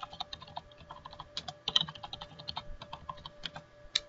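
Password being typed on a computer keyboard during an Oracle Enterprise Manager installation, a quiet, close run of irregular key clicks at a brisk pace with a slightly louder tap near the middle.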